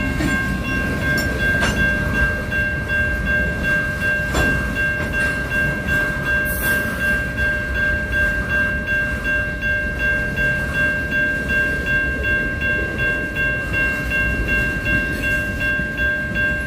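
A late-night train rumbles by during a meet of two trains, with a steady low roar and a sustained high-pitched squeal of wheels, continuous and fairly loud the whole time.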